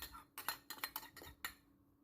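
A spoon stirs Thai spicy tuna salad with chopped chillies, sliced ginger and shallots in a bowl, making a quick series of faint clinks and scrapes over about two seconds.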